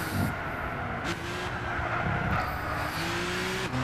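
A BMW M4 revs and accelerates in the Gran Turismo 6 racing game, engine tone climbing steadily through gear changes at close range, loud and continuous with no talk over it.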